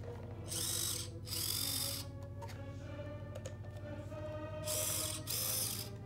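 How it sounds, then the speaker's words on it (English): A new 88-turn electric motor in an SCX24 RC car whirs steadily with a high-pitched whine that surges in louder bursts, accompanied by a mechanical ratcheting buzz. "Sound of that crisp new motor."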